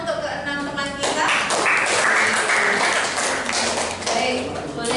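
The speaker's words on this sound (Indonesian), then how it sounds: "Tepuk tangan untuk ke-6 teman kita." A class of schoolchildren claps for six classmates, starting with a few scattered taps and swelling into loud, dense clapping that fades slightly near the end.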